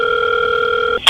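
Telephone sounding a steady electronic ring tone for about a second, loud and close, ending abruptly in a brief burst of noise.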